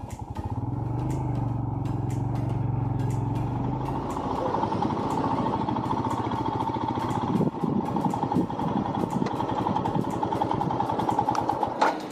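Royal Enfield Himalayan motorcycle riding over broken, rough tarmac, its engine a steady loud drone with rattling and clatter from the uneven surface, continuous throughout with a low throbbing note early on.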